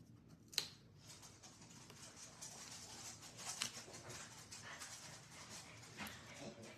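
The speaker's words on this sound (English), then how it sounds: "My dog makes the weirdest sounds." A short-snouted, chronically congested dog makes odd snorting, panting and whimpering noises, with faint sharp squeaks breaking through a soft, steady breathy texture at close range, while a person talks quietly nearby.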